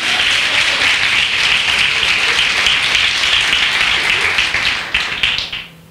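Loud, dense applause from a church audience, a sustained roar of many hands clapping together that tapers off in the final second.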